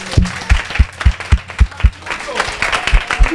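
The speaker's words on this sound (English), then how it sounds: "so clap on yourself as well" A youth audience at a Manchester discussion event claps in a rhythmic run of distinct, fairly loud claps, then breaks into looser, scattered applause mixed with murmuring voices.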